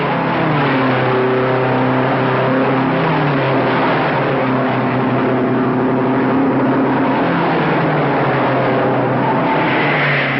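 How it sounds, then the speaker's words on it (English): Loud, continuous roar of race car engines at the 1955 United States Grand Prix, several pitches layered and shifting as cars drone past, with no speech. "Listen to these engines sing."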